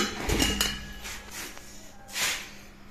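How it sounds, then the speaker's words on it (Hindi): A small mini flour mill grinder being opened: a few metallic clanks and clinks of parts being handled, close up, with short bright knocks at a slow, uneven rhythm. "अब हम लोग इस ग्राइंडर को ओपन करते हैं।"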